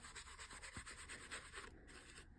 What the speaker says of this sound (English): Rubbing in that soot along the edge of the card.